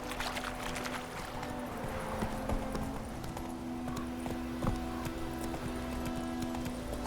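Horse hooves clip-clop steadily on the ground in The Witcher 3 video game, an even rhythmic trotting beat that carries on throughout, fairly close and moderately loud.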